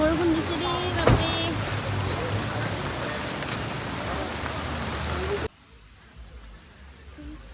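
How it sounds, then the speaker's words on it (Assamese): Heavy rain pours steadily near Chandubi lake, a dense close hiss with a sharp knock early on, cutting off abruptly to near quiet after about five seconds. "ইমান বৰষুণ দিছে দেই, বাপৰে।"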